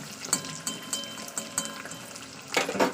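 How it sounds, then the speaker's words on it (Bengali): Eggs fry in a pan with a soft crackling sizzle, broken by a series of brief sharp spatters and pops that grow louder near the end. "তো চলুন ডিম ভাজা আমার কমপ্লিট আমি ডিমগুলোকে এক একে সব ডিম তুলে নেবো"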